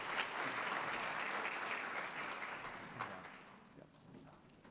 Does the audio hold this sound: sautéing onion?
no